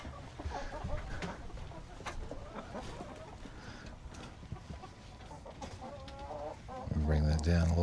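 Hens cluck and murmur inside a hen house, with scattered short calls over shuffling noise, then a louder, sustained squawking burst from a close bird near the end.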